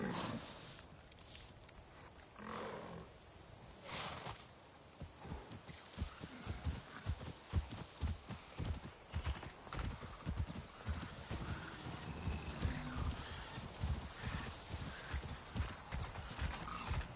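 Horse hooves clip-clopping in the video game Avatar: Frontiers of Pandora, a steady run of rhythmic thuds amid dense ambient jungle sound, moderately loud throughout after a quieter start.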